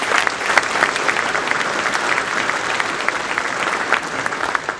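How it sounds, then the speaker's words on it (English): Audience clapping at a Cape Girardeau luncheon honoring Hall of Famers, a dense, steady wash of many hands filling the room, with faint crowd murmur underneath. "How about a round of applause for all?"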